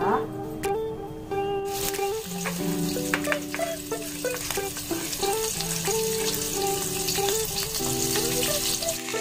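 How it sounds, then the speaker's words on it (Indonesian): Ground spice paste sautéing in hot oil over medium heat, a steady close sizzle that runs throughout, with occasional stirring taps and background music. "Nah, seperti ini kita tumis bumbu yang dihaluskan dulu sampai benar-benar harum ya teman-teman"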